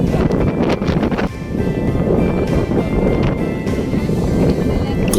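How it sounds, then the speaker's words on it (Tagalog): Strong wind in Boracay roars and buffets the microphone continuously, loud and rushing, with faint water or surf sounds beneath. "Ang lakas ng hangin, di ba?"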